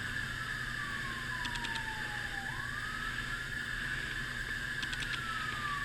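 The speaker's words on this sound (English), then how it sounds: "Sorry about the siren in the background." An ambulance siren wails steadily in the distance, its pitch sliding down and then back up as it passes, over a constant background rumble.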